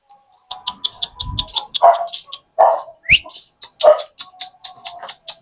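A mother dog and her month-old puppies in a backyard, a rapid string of high yelps and whimpering barks with a few lower, louder barks mixed in, close and busy.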